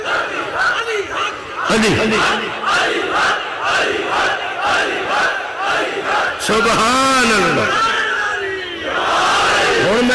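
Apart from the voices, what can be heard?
crowd chanting slogans at a Muharram majlis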